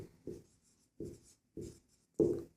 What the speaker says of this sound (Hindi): तो यहाँ लिखेंगे